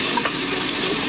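Carrots, potatoes and spring onion cut small frying in oil in a pan for bread soup, a steady broadband sizzle with stirring, close and continuous, no voices.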